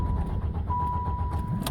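A car engine cranks and struggles to start, a short rough churning turnover with a faint whine, heard alone and close.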